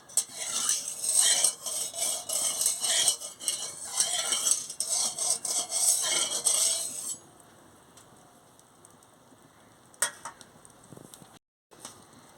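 A metal spoon scrapes and clinks around a hot wok (kadai) as salt goes in before pangas fish is fried, with brisk busy stirring for several seconds, then a quieter stretch with faint sizzling and a couple of sharp clinks.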